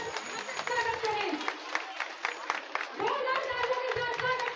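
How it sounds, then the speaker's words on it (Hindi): A crowd claps to welcome the chief guest at a women's political gathering in Uttar Pradesh: rhythmic hand claps repeat under a loud, tonal voice or music that runs throughout. "जोरदार तालियों के साथ स्वागत कीजिए हमारी मुख्य अतिथि श्रीमती कल्पना मिश्रा जी का।"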